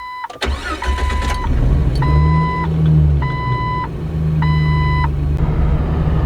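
A Jeep TJ engine with a custom exhaust rumbles steadily at low pitch while driving, joined by repeated electronic chime tones sounding in short bursts.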